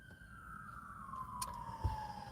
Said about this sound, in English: There's an ambulance and a cop car coming,